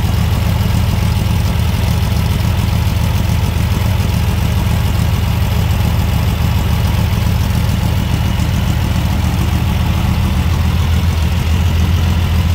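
A 1970 Volkswagen Karmann Ghia engine idles steadily at close range, a continuous low rumble and vibration running unbroken with no voices over it.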